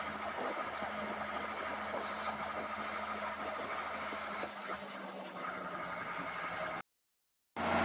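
A Case 970 tractor with a slightly slipping clutch drives along a country road past sheep, its engine a steady, close mid-pitched drone that cuts out briefly near the end.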